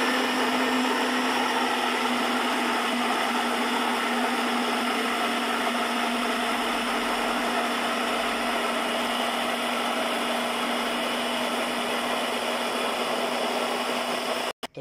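A hand blender whirs loud and steady for several seconds as it mixes eggs, pink salt and oil into homemade mayonnaise, then cuts off abruptly at the end.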